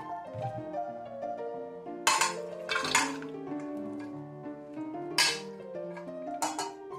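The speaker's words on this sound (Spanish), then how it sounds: "Ahora el tomate, el cilantro, aguacate, cebolla morada y jalapeños lo echamos en un bol." Chopped tomato, cilantro, avocado, red onion and jalapeños are tipped into a bowl, giving a few soft clattering, clinking bursts of utensil against dish over light kitchen background music, with no talking.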